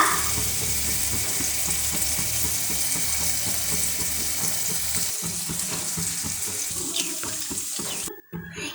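Curry leaves, ginger and garlic fry in hot oil, giving a loud continuous sizzle with crackling bursts and stirring clatter that runs steadily, then cuts off abruptly near the end.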